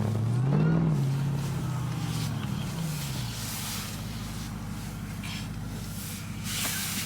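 A Jeep Gladiator with a Hellcat engine drives off, its deep engine note rising in pitch over the first few seconds then settling into a steady roar with road hiss, heard from inside at moderate level without talking.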